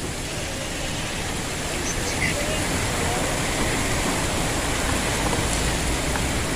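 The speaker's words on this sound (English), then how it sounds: "It is legit hailing" Hail falling during a storm while on the road, a loud, dense, continuous rattling hiss that holds steady throughout with no clear pauses.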